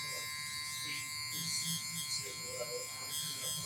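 Electric hair clippers drone steadily with a constant close buzz while doing clipper-over-comb detailing on a fade haircut, with someone talking over the hum throughout.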